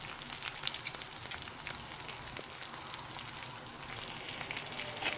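Coriander seeds, rice and black pepper dry-roast in a pan with a soft continuous crackle and sizzle, heard close and fairly quiet with no voices.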